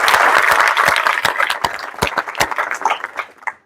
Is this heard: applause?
yes